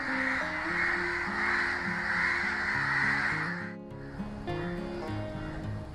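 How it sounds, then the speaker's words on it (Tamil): A large flock of crows caws together in a dense, overlapping chorus that keeps going throughout, briefly thinning about midway before resuming at full strength. "இத்தனை காக்காங்களும் அந்த ஒரு காக்காக்காக கத்திட்டு இருக்குது"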